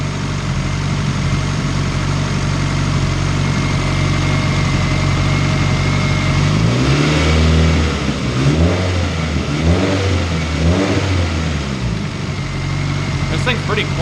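A turbocharged Honda CR-V engine runs at a steady idle on its first start, then revs up and down in several swelling pulls before settling back. A person talks over it.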